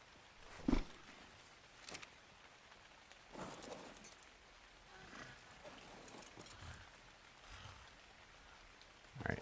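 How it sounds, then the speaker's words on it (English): Soft, steady rainfall in the survival game Ark: Survival Ascended, a faint hiss of drops with occasional louder patters and thumps scattered through, no talking. "Oh, it's raining."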